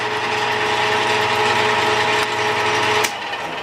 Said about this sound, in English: the machine just shut itself off because this limit switch hit the maximum